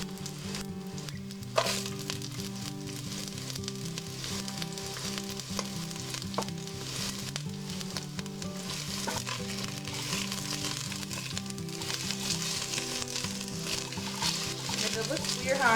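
Bacon sizzles steadily in a pan as collard greens are cooked, with a constant frying hiss and occasional sharp pops throughout, beneath a recurring low hum.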